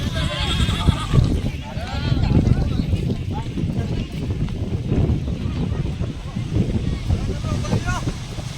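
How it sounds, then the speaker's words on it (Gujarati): A mare at a farm near Shivrajpur beach neighs while her hooves clop, with wind buffeting the microphone and people talking nearby throughout. "ઘોડી આવી ગઈ છે, આપણે ઘોડી ઉપર ટ્રાય કરવાની છે"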